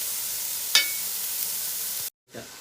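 Four chopped onions with a pinch of salt fry in a pan for black chicken curry, giving a steady close hiss with a brief clatter, then cutting out abruptly near the end.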